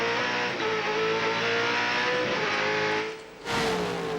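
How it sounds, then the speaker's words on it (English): A 1997 V8 Supercar race car engine on track, heard from an onboard position at the front of the car: a loud, continuous engine roar holding steady, then dipping briefly and surging back near the end. "You now ride at the front of Glenn Seaton's car."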